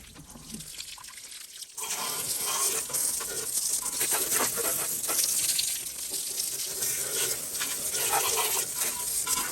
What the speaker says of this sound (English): So I got the garden hose in here.